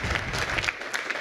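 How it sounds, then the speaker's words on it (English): Brief, dense audience applause at an awards ceremony for a university business plan competition, steady and moderately loud, with no talking over it. "So give yourselves a round of applause."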